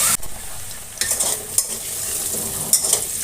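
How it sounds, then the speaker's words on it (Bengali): Potatoes fry in oil in a wok without turmeric or salt, a dense loud sizzle broken by several sharp scrapes and knocks of a stirring spatula against the pan. "প্রাথমিক ভাজাটা হলুদ লবণ ছাড়াই ভাজবো"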